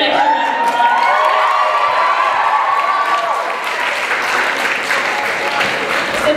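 Audience applause mixed with cheering and whoops for a performer at a theater-style show, loud and sustained throughout, with a bright tonal whistle-like cry rising over the crowd in the first half.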